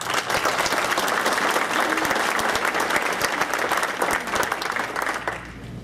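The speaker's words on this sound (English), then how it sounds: "I think we owe her a round of applause" A room of attendees at a city business meeting breaks into applause, a steady wash of many hands clapping that holds for several seconds before tapering off.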